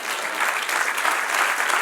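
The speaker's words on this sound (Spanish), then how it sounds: "Dale un aplauso al que reina." Congregation at a church service bursts into steady, loud applause, a thick wash of many hands clapping with no pause.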